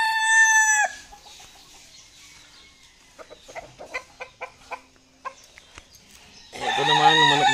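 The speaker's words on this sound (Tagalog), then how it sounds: "Ayan ang kauna-unahan ko tandang" A backyard rooster crows loudly and close by, once at the start and again at the end, with scattered soft clucks and pecking sounds from chickens in between.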